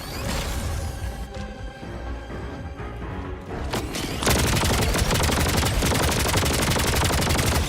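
Heavy video game gunfire crashes in sustained automatic bursts, with a denser, louder stream of shots in the second half.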